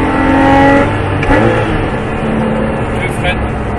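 A Porsche 997 accelerates in fourth gear during driving practice around cones, its engine a steady mid-level drone with a slight rise, while a voice speaks over it.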